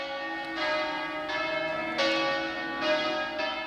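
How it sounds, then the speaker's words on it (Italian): Church bells ring out over a churchyard as a coffin is carried out after a funeral, their steady peals overlapping and sustained, loud and unaccompanied by speech. "per l'ultima benedizione scandita dal suono delle campane"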